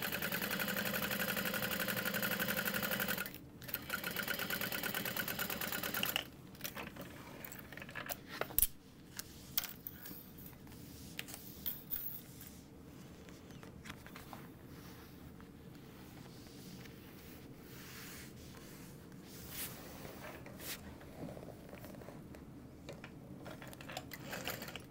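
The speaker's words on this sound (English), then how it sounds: "I am stitching through that fleece" A sewing machine stitches through fleece on a structured tote bag, first as a loud steady whir in two runs, then as quieter intermittent clicks and mechanical ticks close by.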